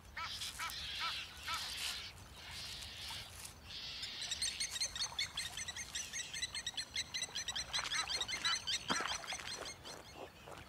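Birds call in a crater marsh in Africa: a busy chorus of sharp chirps and repeated calls, some near and some farther off, over a soft background hush.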